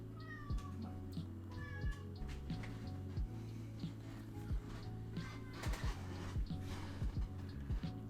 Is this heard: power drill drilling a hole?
no